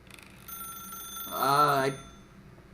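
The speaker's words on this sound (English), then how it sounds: "There's just a phone here all of a sudden." A telephone rings in the video game The Stanley Parable, a bright warbling ring near the middle that rises briefly, then fades. Soft room tone sits around it and no one speaks.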